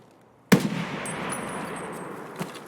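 A single sharp gunshot from an AKM rifle in Escape From Tarkov rings out loud and close after a brief silence, followed by a long reverberant tail with a faint second thump near the end.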